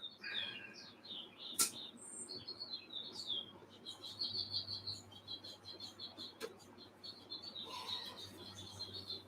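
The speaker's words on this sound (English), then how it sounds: "It's bird party like almost every night in the evenings around here." Several birds chirp and tweet in the evening, with bright, busy calls overlapping in a steady outdoor chorus and a few sharp clicks in between.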